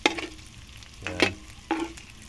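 String beans and pork sizzle and get stirred in a pan for Filipino adobong sitaw, with three brief bursts of scraping and crackling over a low steady fry, close and alone.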